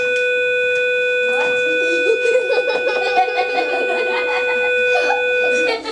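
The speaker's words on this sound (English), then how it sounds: "That's the attendance bell that I'll miss here in a second." A steady electronic school attendance bell rings continuously while a classroom full of voices murmurs and chatters beneath it.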